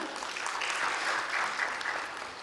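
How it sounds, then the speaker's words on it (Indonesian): A seated audience claps steadily, applauding graduates of the KIPK scholarship program, a soft, even patter of many hands heard from a short distance for a few seconds. "Ini teman-teman mungkin boleh tepuk tangan ini buat teman-teman KIPK"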